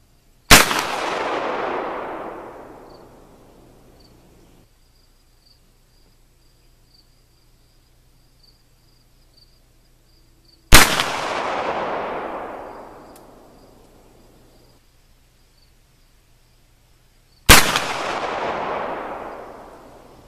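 Three loud, widely spaced gunshots from a Thompson Center Hawken muzzleloader rifle loaded with Pyrodex powder and a round ball, fired outdoors while sighting in. Each blast rolls off in a long booming echo, with steady quiet between shots.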